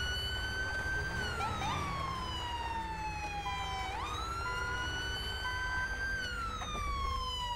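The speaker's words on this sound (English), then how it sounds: "Can they turn their siren off?" A police car siren in a video game wails loudly and continuously, sweeping up and down in long tones with a sharp dip partway through, over a low vehicle rumble.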